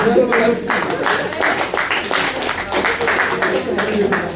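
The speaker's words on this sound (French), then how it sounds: "Vous avez raison de vous applaudir" An audience claps through a speech event, a brisk run of overlapping hand claps at moderate loudness that carries on steadily throughout, mixed with some voices.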